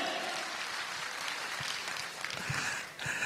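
An audience at a business workshop event claps steadily and densely throughout, a broad wash of applause with a few louder individual claps standing out near the end.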